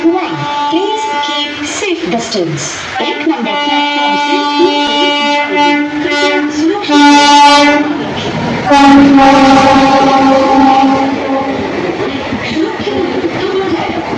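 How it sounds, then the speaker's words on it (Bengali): A Sealdah–Lalgola passenger train pulls into Shyamnagar station at night after rain, its horn sounding in long sustained blasts over the rumble of carriages, loud and close, with people talking nearby. "তো এই হচ্ছে ট্রেন ঢুকছে দেখুন"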